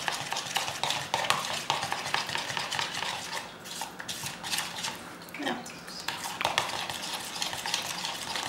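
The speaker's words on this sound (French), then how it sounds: "Je vais continuer à mélanger." A homemade cream hair-milk mixture is stirred steadily in a container, with a close, continuous run of quick scraping and clicking strokes, alone with no voice.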